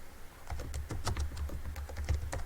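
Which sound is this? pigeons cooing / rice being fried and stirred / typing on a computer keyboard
typing on a computer keyboard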